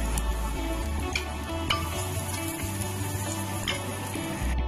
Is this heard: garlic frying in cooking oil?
yes